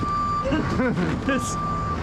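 A vehicle's warning alarm sounds as a steady electronic tone at a giant sequoia tree removal job, running continuously beneath a voice talking over it.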